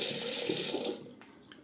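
Water runs from a tap at a bathroom sink while a safety razor is rinsed during a wet shave, a steady close hiss that fades after about a second into a faint trickle.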